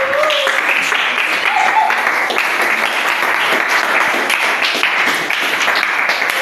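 Loud, steady applause from a church congregation fills the whole stretch, dense clapping with cheers and voices mixed in.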